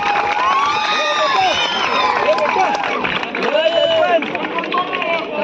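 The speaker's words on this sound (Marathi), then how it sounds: "या गोल्डन प्लेअर साठी एकदा टाळ्या वाजवा दर्पण घाटकर" Crowd noise with cheering and clapping at a college kabaddi semifinal match, heard as a dense, lively roar throughout, with shouts rising and falling and an announcer's voice over it.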